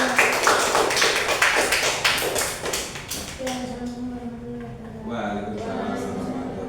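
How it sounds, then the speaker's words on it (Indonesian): A classroom group claps at the end of a counseling-class session, a brisk burst of many hands that fades within a few seconds before a voice starts talking. "Tepuk tangan."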